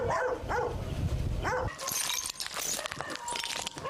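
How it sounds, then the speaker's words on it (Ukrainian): A dog left tied up at a bomb-damaged house gives a few faint whimpering yelps early on, followed by light clattering and rustling debris noise at a distance. "Тільки пес прив'язаний залишився."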